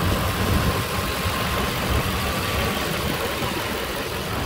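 A 2005 Nissan Armada SE with a 5.6 liter engine idles at a steady, even rumble, close by and unbroken, with no one talking.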